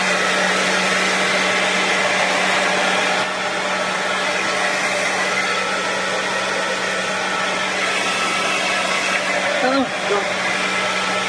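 A hair dryer blows steadily at close range to dry off a soaked surface, a constant loud whooshing hum, with a brief spoken exclamation near the end.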